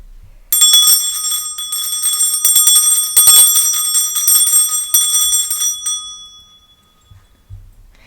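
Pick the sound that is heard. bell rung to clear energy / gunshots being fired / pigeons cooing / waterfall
bell rung to clear energy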